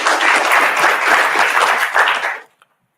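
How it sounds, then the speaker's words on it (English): An audience at a Brighton AI community evening hosted at the University of Sussex bursts into loud, dense applause that holds steady for about two and a half seconds, then stops abruptly into silence. "So I think a round of applause for the university."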